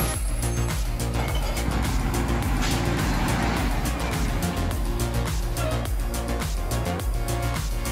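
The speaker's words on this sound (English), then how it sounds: "our star is the WMP320 McNilas garbage truck, a leaf packaging expert at the speed of light" A WMP320 McNilas garbage truck, a leaf packer, runs with a loud, steady low engine drone and recurring rhythmic pulses, close by and continuous throughout with no talking.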